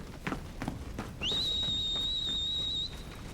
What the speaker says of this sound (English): So I love the sound of his whistle there.